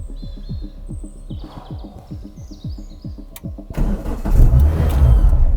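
A Renault Clio 172 cranks from cold with a rapid rhythmic starter whir, then catches and roars into a loud, rough, high rev, with birds chirping faintly in the background.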